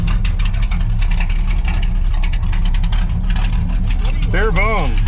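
A Corvette with a homebrewed 454 V8 and five-speed idles at about 500 RPM, a loud steady low rumble with interior rattles throughout, a person talking over it, and a brief rising whine near the end.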